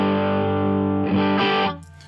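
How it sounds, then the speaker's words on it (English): Electric guitar through the dirty channel of a Sierra Tone OTS Mini 20 amp: a heavily distorted sustained chord, followed by a couple of quick picked changes before it is cut off. "we're now in the dirty channel of the Sierra Tone OTS Mini 20, which sounds a little like this"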